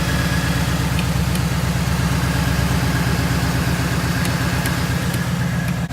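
A 2016 Ford Mustang GT V8 with a 170-degree thermostat and tune idles close by, a steady low throbbing burble with an even pulsing rhythm and no talk.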